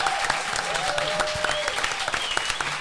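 Studio audience applauding a Eurovision 2021 Swiss contestant's third-place performance on a French talk show, a dense steady wash of clapping held for the full stretch with a faint voice underneath.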